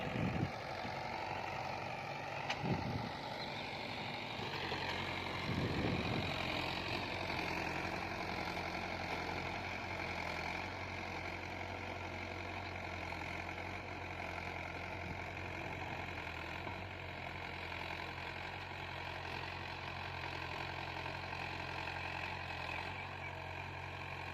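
A 2012 Mahindra tractor engine runs at a steady idle, with a continuous, close, low diesel rumble and even throbbing that holds level throughout and has no talk over it.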